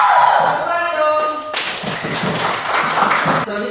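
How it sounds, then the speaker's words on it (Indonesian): A burst of clapping from a classroom of student groups breaks out after a few soft taps, continuing loudly for a couple of seconds before stopping abruptly. "Tepuk tangan dong."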